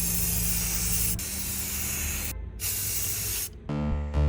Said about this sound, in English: Spray paint time!